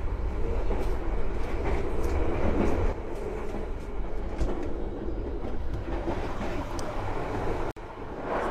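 Inside a moving KA Brawijaya executive train carriage, a loud continuous rail rumble and rattle fills the cabin, with faint clicks and a brief drop near the end as a door shuts.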